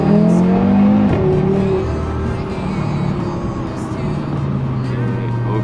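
Audi RS3 Stage 2 tuned to over 450 hp, engine accelerating: a loud, close rising rev that peaks early, then eases into a steady throaty drone and climbs again toward the end, with speech faintly over it.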